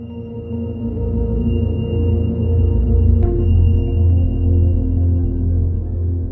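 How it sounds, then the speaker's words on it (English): Tones for subconscious reprogramming: a steady, layered low humming drone with faint higher sustained tones, continuous and even in loudness, no voices. "This is a sample of what the tones sound like."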